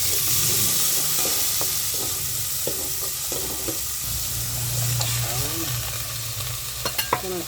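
Onions fry and sizzle in a pan on a home stove, a steady hiss broken by light stirring taps and scrapes, fairly close, with no talk over it.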